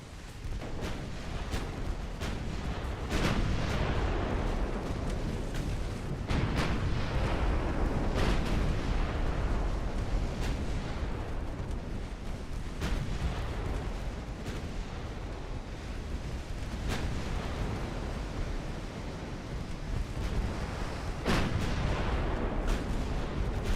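Heavy naval gunfire in Ultimate Admiral Dreadnoughts, with 9-inch shells from a heavy cruiser and secondary batteries firing on a destroyer: a dense, continuous barrage of booming shots and sharp impacts over a steady rumble, loud and unbroken.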